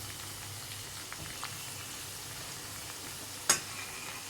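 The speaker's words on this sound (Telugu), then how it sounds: "ఇప్పుడు ఎల్లిపాయలు గోలాక కొంచెం బ్రౌనిష్గా రావాలి" Garlic fries in oil with a faint, even sizzle throughout, broken by a single sharp crackle near the end, quiet and without talking.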